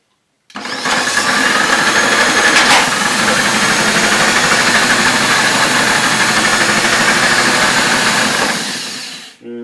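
A Hoover F3871 suction floor polisher motor whirs on with a loud, steady droning hum and runs continuously for several seconds before switching off abruptly.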